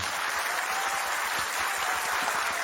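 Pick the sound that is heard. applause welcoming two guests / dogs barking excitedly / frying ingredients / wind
applause welcoming two guests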